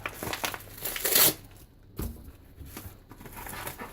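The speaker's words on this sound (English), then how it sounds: "I think I might just rip this one open" Plastic mailbag package torn open by hand, a loud crinkling rip peaking near the middle, then softer rustling and handling of the wrapping.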